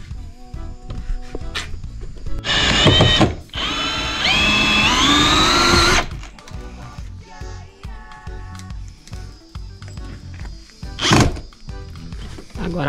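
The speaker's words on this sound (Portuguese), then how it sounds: "a gente tá parafusando a madeira" A power drill drives screws into wood while building a motorhome cabin storage chest, with two whirring bursts of the motor followed by knocks and handling clatter nearby.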